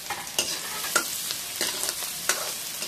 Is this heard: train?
no